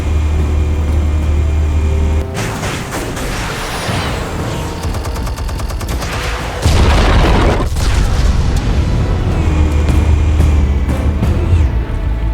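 Explosives detonating in the Telltale Batman game: heavy booms and rumbling blasts with crackling debris and bursts, loud and close, surging again midway through.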